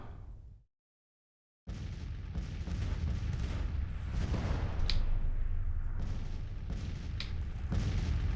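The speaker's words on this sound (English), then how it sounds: "We'll open with an artillery duel." Cannon fire from an artillery duel in the Civil War strategy game Grand Tactician, a steady rumbling barrage of booms and blasts after a brief silence, dense and continuous with sharper cracks standing out.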